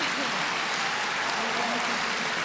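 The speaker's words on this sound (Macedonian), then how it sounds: "Ќе ве замолам аплауз за екипава која е тука" An audience applauds the crew at a children's awards show, a dense, continuous clatter of many hands heard at a distance, with a voice faintly audible beneath it.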